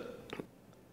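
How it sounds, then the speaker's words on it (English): A single short burp after drinking clam juice with sardines in tomato sauce, two quick bursts close to the mic, then quiet. "That burp just tasted like sardines, tomato sauce."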